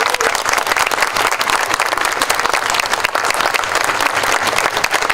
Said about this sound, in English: How about a round of applause for my friend